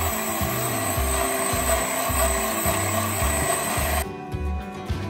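Electric mixer whirring steadily through muffin batter made from a ready-made mix with oil and water, a loud continuous motor drone with a rhythmic pulsing low churn, easing off slightly near the end.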